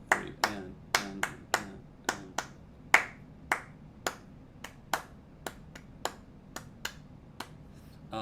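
Hand clapping counting out a ukulele rhythm in a jazz club lesson, sharp isolated claps in a steady, syncopated pattern, close and clear with no voices.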